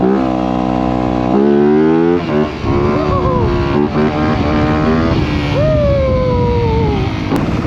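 Motocross dirt bike ridden through city streets, its engine loud and close, revving and dropping in uneven bursts with rising and falling pitch, a faint voice now and then.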